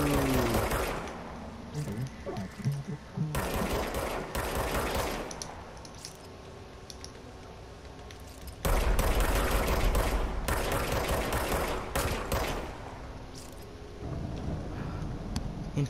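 Rapid automatic gunfire from the video game Control, bursts of dense mechanical rattling coming in loud volleys with short pauses, close and prominent.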